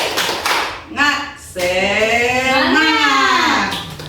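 Classroom group doing a rhythmic spirit clap: a few quick sharp claps, then voices chanting together in a drawn-out call.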